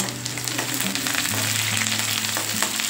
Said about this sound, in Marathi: कांदा घेतला होता चिरून, तो टाकायचा त्यामध्ये आणि परतून घ्यायचा आपल्याला हा कांदा थोडा कच्चेपणा त्याचा जाईपर्यंत